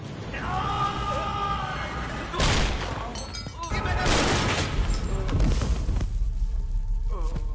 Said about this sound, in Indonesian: Gayatri masih bisa mengendalikan kesadarannya dan menembak mereka hingga meregang nyawa